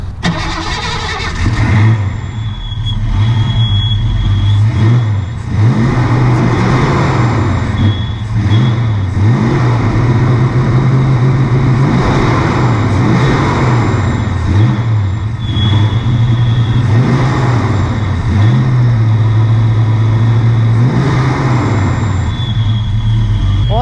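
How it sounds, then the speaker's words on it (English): A Ford Fox body Mustang engine runs steadily with fresh spark plugs, a loud, close rumble that rises and falls in repeated revs throughout, with no talking. "we're gonna start the car up and see if it sounds any better"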